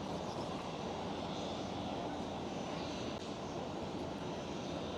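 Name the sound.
British Airways airliner at Schiphol airport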